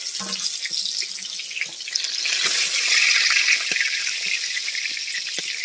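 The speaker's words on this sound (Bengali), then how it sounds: "তো এই দেখতে পাচ্ছি আমাদের পটলগুলো খুব ভালোভাবে ভাজা হয়ে গেছে।" Pointed gourd frying in hot oil gives a bright, steady sizzle with a hiss that swells midway, broken by a few soft clinks as the pieces are lifted out.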